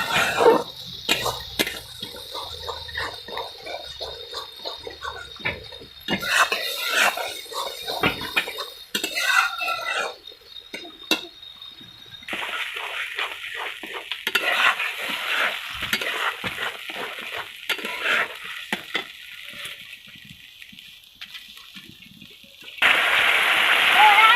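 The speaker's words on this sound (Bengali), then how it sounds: "এবার ভালো করে কষিয়ে নেব" Bhangon fish masala being stir-fried in a pan with slit green chillies, a steady sizzle broken up by spoon scrapes and stirring, with a louder burst of frying near the end.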